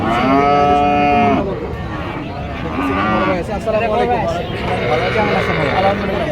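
Cattle moo loudly and close at a livestock market near the Padma bridge at Jajira, one long bellow followed by more lowing while someone talks nearby over market bustle.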